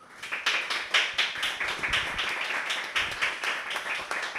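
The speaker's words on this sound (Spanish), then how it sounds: "Un aplauso, por favor." Applause from a small audience at a talk event, a modest group clapping with distinct individual claps in an uneven rhythm, fairly close and steady, no voices over it.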